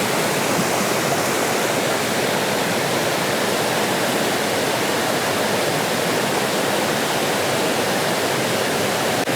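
Steady, broadband rushing of a flowing rainforest river fills the whole stretch, a constant close wash with no voices.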